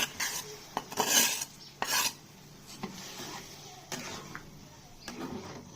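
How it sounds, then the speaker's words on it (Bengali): Raw rice tipped into a pot of cooked meat for a children's biryani, giving soft scraping and rustling stirs, with a few louder gritty scrapes early on before settling into quieter shuffling. "এখন আমি চালটা অ্যাড করে দিয়ে দিব।"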